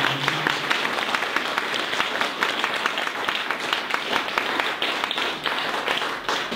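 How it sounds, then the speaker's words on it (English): A conference audience applauds steadily, dense clapping from many hands filling the space without a break. "One more round of applause"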